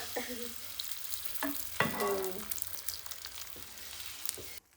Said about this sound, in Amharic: በመጥበሻ ነው የሚጋገረው ቂጣው